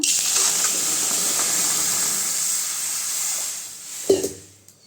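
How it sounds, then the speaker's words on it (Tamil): A steady hiss of water poured into a hot pan of browned spice masala for cowpea curry, sizzling and fading out, followed by a brief clatter near the end. "இப்போ தண்ணி ஊற்றிக்கலாங்க"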